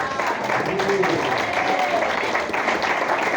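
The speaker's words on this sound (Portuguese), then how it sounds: "Receba o anjo da igreja com palmas e glórias a Deus." Church congregation applauding during a Pentecostal worship service, a dense continuous patter of clapping with voices and cheers mixed in throughout.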